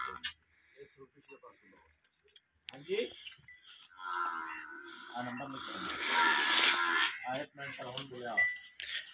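Nili-Ravi cross buffaloes being hand-milked at a farm, with a buffalo lowing loudly and several moos standing out amid close, steady talk and background clatter.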